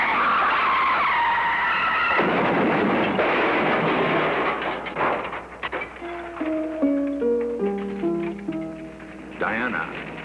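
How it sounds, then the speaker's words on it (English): A car skids out of control on a highway, swerving away from an oncoming drunk driver: a long tire screech over the first couple of seconds gives way to dense noise and crashing tones, under continuous narration. "a car on the nearby highway went out of control, veering away from an oncoming drunken driver"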